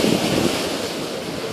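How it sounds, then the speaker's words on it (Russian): Sea waves surging and splashing against church steps nearby in Sitges, a broad rushing wash of water with some wind noise, brief and steady. "Вот ступени, а вот и волны."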